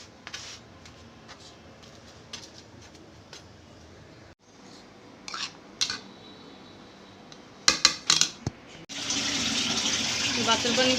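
Faint kitchen clatter and a few knocks and clinks give way to a tap running strongly into a sink or pot for the last couple of seconds, as rice water is set to cook.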